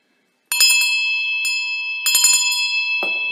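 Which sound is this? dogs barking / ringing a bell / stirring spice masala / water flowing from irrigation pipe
ringing a bell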